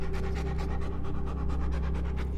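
A Doberman Pinscher panting hard and fast, a steady rhythmic series of close, loud breaths across the whole stretch, with no voices.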